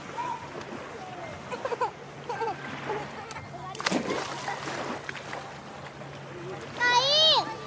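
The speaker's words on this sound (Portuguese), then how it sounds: "Sim, eu caí pra água!" A child splashes into sea water at a beach, with water sloshing and splattering among children's voices and high, shrill cries, and a loud burst of splashing near the middle.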